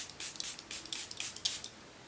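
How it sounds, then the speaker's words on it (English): Charlotte Tilbury setting spray misted onto a face, heard as several short, soft hissing spritzes spaced across a couple of seconds, close and fairly quiet with no talking. "So now I just gotta put some lashes on and spray this face down, honey."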